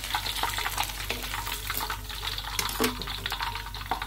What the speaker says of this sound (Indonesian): Kemudian kita siram ya dengan minyak panas.